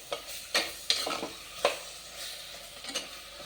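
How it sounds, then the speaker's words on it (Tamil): Eggplant pieces sautéing in a pan for a Tirunelveli-style brinjal kara kuzhambu: a steady low sizzle broken by several sharp scrapes and clacks of a spoon stirring against the pan, with no talking. "கத்திரிக்காய் ஒரு 5 நிமிஷம் வதங்க தான் குழம்பு போட்டுக்கலாம்."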